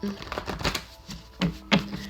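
A deck of tarot cards is shuffled by hand, giving soft riffling flutters and a couple of sharper slaps as the cards are squared, close up with no talk.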